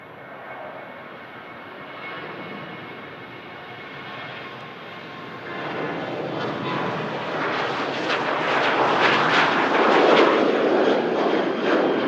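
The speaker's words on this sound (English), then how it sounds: "Now the Ryanair for Belfast is on its way." Ryanair jet bound for Belfast taking off at Manchester Airport, a broad engine roar that swells steadily and grows louder toward the end, with no one talking.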